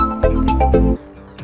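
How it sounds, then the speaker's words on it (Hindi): A short electronic ringtone melody, a few bright rising tones played loudly and close, then fading out. "जी इतनी रात को किसका फोन आ रहा है?"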